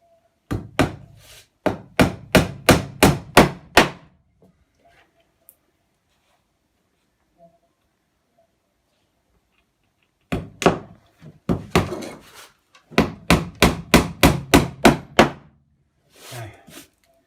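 Sharp, rapid hammer blows drive 40mm oval finishing nails into pine floorboards, close and loud. The strikes come in two bursts of about eight evenly spaced hits each, separated by a long quiet pause.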